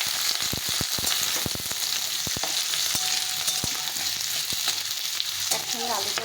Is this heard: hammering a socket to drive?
no